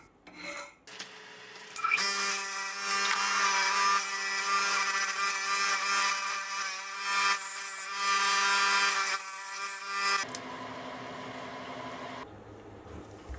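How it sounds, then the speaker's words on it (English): A metal file rasps in steady back-and-forth strokes into cooled steel, loud and close with a bright, ringing scrape, followed by a few quieter scrapes and handling noises. "after cooling, the file easily bites into it"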